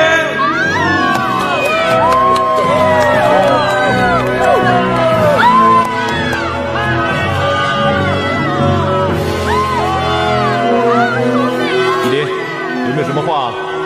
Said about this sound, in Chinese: 让我们掌声有请依林